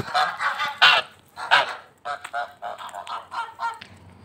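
Domestic geese honk repeatedly in loud, nasal bursts, several birds calling close by in an irregular rhythm with short pauses between calls.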